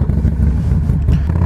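A motorcycle engine, the rider's machine being set off for a ride, rumbles loud and close with low uneven throbbing pulses and no voices.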